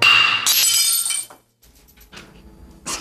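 A glass breaks and shatters loudly at close range in a domestic dramatic scene, a sharp crash followed by ringing shards for about a second, then quiet rustling and a faint final clink.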